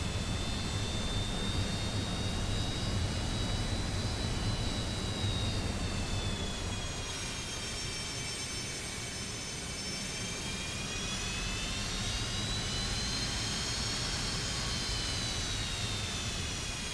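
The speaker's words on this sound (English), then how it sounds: "Listen, I love those engine sounds." Regional jet engines whine steadily in Microsoft Flight Simulator, a loud sustained roar with high tonal turbine tones that slowly rise and fall in pitch, heard alone without talk.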